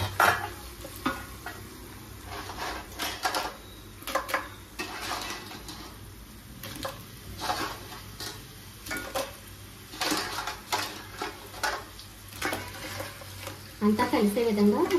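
Crabs are stirred into tomato masala frying in a pan for crab and brinjal curry, with steady sizzling under repeated scraping and clattering stirs that come close and irregular.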